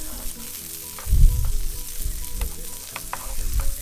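Mixed vegetables hit melted butter in a pan and fry close up, a crackling sizzle that swells when they go in and keeps popping and spitting under brief stirring.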